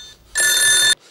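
A telephone bell rings loudly in one sustained burst of about half a second, close and clear, with quiet room tone before and after in a Hindi comedy show scene.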